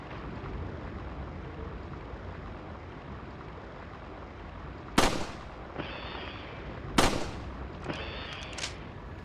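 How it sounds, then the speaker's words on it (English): In the PS2 version of the video game Resident Evil 4, two sharp, loud gunshot blasts a couple of seconds apart with a few smaller pops, over a steady wash of flowing water; the sound is muffled and compressed. "the sound of the water flowing in the background and the sound effects for gunshots"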